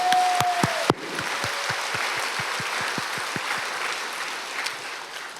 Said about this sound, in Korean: 그 살아계신 하나님께 박수로 영광을 돌립니다